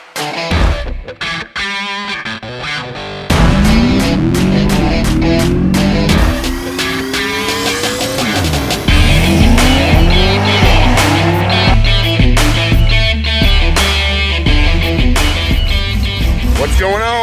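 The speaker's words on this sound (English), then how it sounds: "Car's warming up." A street-racing car at South Carolina Motorplex idles and revs loudly up close, its engine pitch sweeping up and down repeatedly with rough, throaty bursts and a sustained drone.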